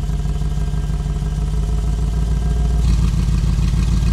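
A Mercedes-AMG G 63 Mansory idles with its exhaust in silent mode, giving a loud, close, deep steady rumble that swells a little toward the end.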